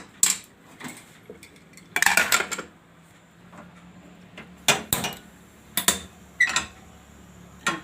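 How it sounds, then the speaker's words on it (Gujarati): A kadai is set down on the stove to temper boiled chana dal with oil, giving several sharp metallic clanks and clatters separated by quiet gaps in a home kitchen, close and fairly loud, with no voices. "કઢાઈ રાખશું એમાં આપણે તેલ નાખશું"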